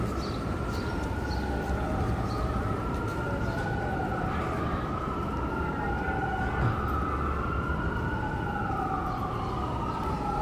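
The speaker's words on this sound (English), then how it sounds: "Sirens." Wailing sirens of emergency vehicles sweep up and down continuously, several overlapping, over a steady roar of Midtown Manhattan traffic in New York.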